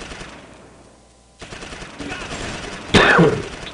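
Machine gun fire in the Close Combat wargame, a rising clatter of automatic bursts that ends in a loud, sharp volley near the end.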